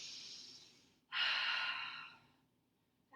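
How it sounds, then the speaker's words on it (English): Slow deep breaths during a cool-down stretch at the end of a barre workout, a soft inhale fading out, then a louder, longer airy exhale, close and alone. "Just take a couple deep breaths here."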